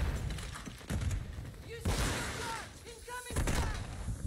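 Bursts of suppressed light machine gun fire in a first-person shooter, with rapid muffled shots coming in several short volleys mixed with game effects and players talking.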